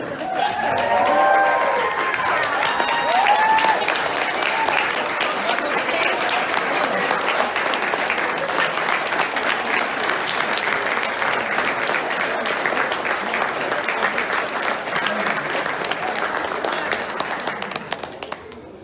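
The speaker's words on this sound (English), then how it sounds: "give it a big applause here" A standing crowd at a medical residency graduation ceremony gives sustained, loud applause, many hands clapping in a thick continuous wash that holds steady for nearly twenty seconds before easing slightly, with scattered cheers and brief voices early on.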